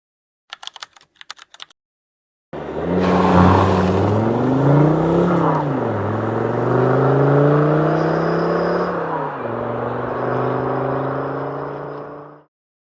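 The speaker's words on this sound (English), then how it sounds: "Volvo's 5-cylinder diesel is also famous in the car community for being almost completely indestructible" A Volvo five-cylinder diesel engine starts after a few brief clicks, then idles and revs loudly with rising and falling harmonic tones, settling back to a steady, close-up rumble before cutting off.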